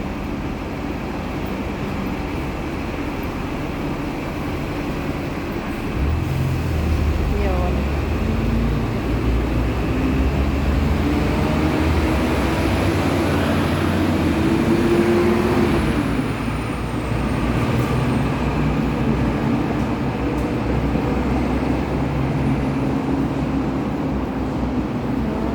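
Trams and cars pass over a shaking bridge, a low rumbling traffic drone that swells and builds over the middle stretch, with a rising whine from a passing vehicle and a steady distant background hum.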